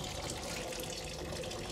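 A sink filling with about ten litres of sanitizer from the tap for rinsing wine bottles while bottling homemade wine: a steady, close, fairly loud rush of running water, continuous throughout with no talk.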